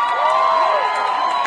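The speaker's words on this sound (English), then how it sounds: "Give them a round of applause." Audience at a showcase cheering and whooping, a loud, bright burst of crowd shouts with high yells, brief and sustained without pause.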